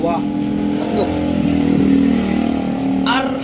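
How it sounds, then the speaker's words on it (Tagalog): A motorcycle engine runs and revs up and down close by, a throaty rumbling drone that swells and eases over a few seconds. "pakinggan nyo ang makina guys"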